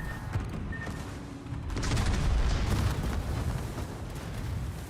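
Torpedo explosions from the naval combat video game World of Warships hit as a heavy rumbling boom that swells for a couple of seconds over a constant battle din.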